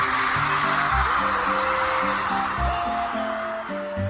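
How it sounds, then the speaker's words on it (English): Dense roar of hundreds of people crowding around a stage at VidCon, a steady wash of cheering and chatter with faint musical tones underneath, loud and continuous throughout. "So what you just heard there is hundreds and hundreds and hundreds of people surrounding a stage at VidCon."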